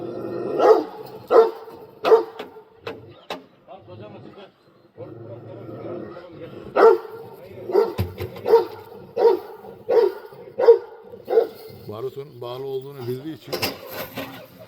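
A dog barks repeatedly in short, evenly spaced bursts, fairly close, with a pause partway through and someone talking over part of it.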